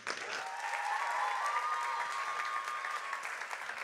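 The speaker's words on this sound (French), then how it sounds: "On les applaudit, on applaudit nos équipes." Steady applause from an audience cheering student teams after a final fashion-marketing project presentation on stage, a dense continuous patter of clapping with faint crowd murmur throughout.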